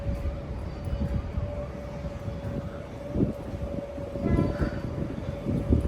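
A train runs along the railway track at the Baiyappanahalli platform beside the metro, heard as a steady low rumble with a sustained tonal hum and rising bursts of rolling noise. Faint background activity sits underneath.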